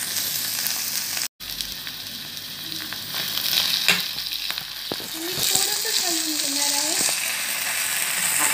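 Paneer stuffing stirred with a pinch of salt in a pan, a continuous soft sizzle and scraping with intermittent clicks of the spoon and a brief dropout partway through.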